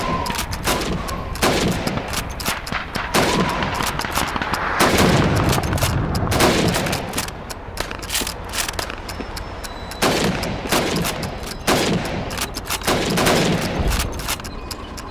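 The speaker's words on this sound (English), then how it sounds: "You have 15 seconds to shoot the helmets." Rifle fire at helmet targets during Red Army training in Call of Duty 2, a steady run of loud, close, repeated shots spaced a second or two apart, with battlefield gunfire continuing in the background.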